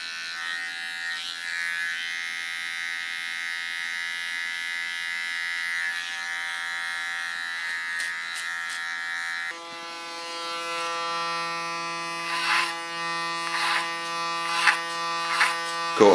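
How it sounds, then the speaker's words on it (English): Small electric hair clipper trimming the neckline contour during a short haircut, a steady close buzz that shifts pitch partway through as the blade meets the hair, with brief scraping bursts near the end. "Clean the contour line with my small clipper."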